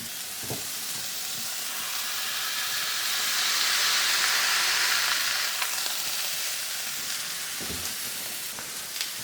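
Smash burger patties sizzle loudly and steadily on a hot griddle. The broad, hissing fry swells midway, and a few soft scrapes and clicks come through it.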